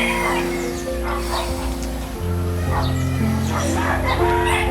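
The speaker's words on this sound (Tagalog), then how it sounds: "Dami mo ng alagang manok." Pet chickens at a Philippine home cluck and crow, their calls rising in short repeated bursts over a steady low hum, with some background noise and a dog-like bark mixed in.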